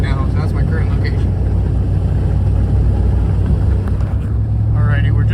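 A car drives up Highway 61 during a snowstorm, its steady engine and road rumble loud and constant throughout, with a voice speaking over it.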